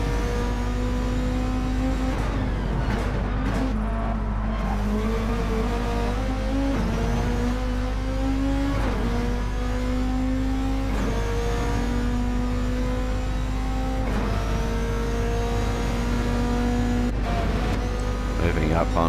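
A VW Beetle engine in Gran Turismo 7 drones loudly and revs up again and again, with rising pitch on each gear, during a Bug Cup endurance race, and someone talks over it.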